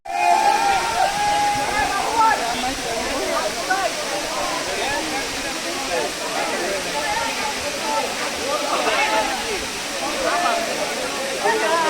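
Sahasradhara waterfall at Sitakunda, Chittagong, roaring as a steady, loud, broadband rush of falling water, with faint voices of visitors in the background.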